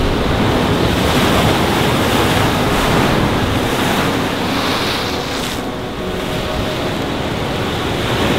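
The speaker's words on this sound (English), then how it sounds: "The water is so blue and the waves are splashing." Ocean surf at Cape Weligama's West Beach in Sri Lanka, with waves splashing continuously up close as a loud, steady wash. Wind buffets the microphone throughout, and no one speaks.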